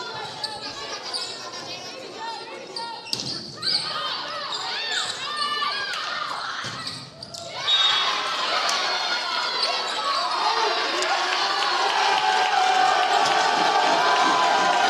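Home crowd at a women's college volleyball match between Bluefield and UPIKE, noisy chatter and a ball bounce giving way to a swelling, sustained roar of cheers and jeers that grows louder toward the end.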